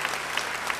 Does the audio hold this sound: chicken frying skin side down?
no